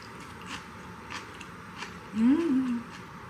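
Someone chews salmon and beef tartare sushi up close, producing soft wet bites and mouth sounds over a few seconds, with one brief low hum from the eater near the end.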